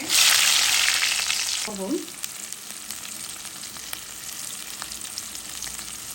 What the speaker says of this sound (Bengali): দুটা তেজপাতা, দুটা দারচিনি, এলাচ আর লং ভাজা হতে থাক।